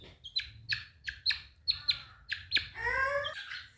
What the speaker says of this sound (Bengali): এগুলো হচ্ছে আমার মুরগি